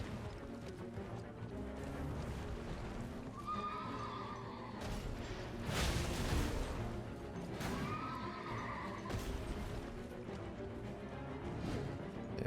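A horse in the Elden Ring video game neighs twice in shrill whinnies, heard over the constant din of combat noise and hoofbeats.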